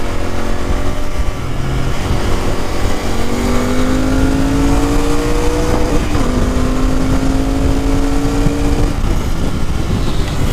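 A Royal Enfield Continental GT 650 with a BS6 650cc engine revs hard under acceleration, its loud exhaust note climbing in pitch with brief dips at gear changes, close to the microphone.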